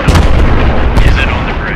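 Dense, loud rumbling booms of mortar fire and battle noise in the Post Scriptum video game, set at the Arnhem bridge battle, a continuous heavy roar across the short stretch.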